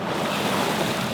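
Surf breaks steadily on the shallow banks at a river entrance near Pedregal, Panama, a continuous broad wash of water under gusting wind noise, close and fairly loud with no pauses.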